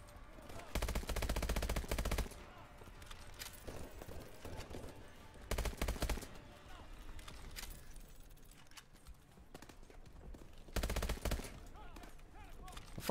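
Gunfire from the video game Call of Duty: Advanced Warfare: repeated loud bursts of automatic fire in three main volleys, with scattered shots and combat noise between them, close and dense throughout.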